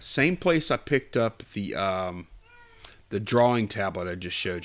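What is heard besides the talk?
cat meowing and howling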